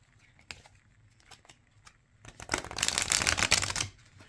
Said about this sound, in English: Okay, so that is a riffle shuffle